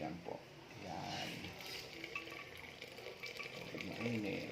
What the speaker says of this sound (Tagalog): Tapos mayroon tayong tubig mainit.